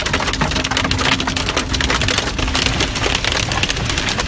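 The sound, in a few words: pelting rain during a Sydney storm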